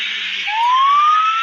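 A video-game fire truck siren wails steadily, its tone sweeping upward, loud and close, with no talking.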